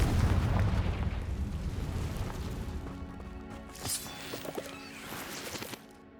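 A Confringo fire spell explodes in the video game Hogwarts Legacy: a loud, rumbling blast that slowly fades, followed by scattered smaller pops and crackles.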